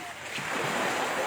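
Sea surf at a beach washes in a steady broad hiss with gentle surges, mixed with wind buffeting the microphone, fairly faint, under a person talking.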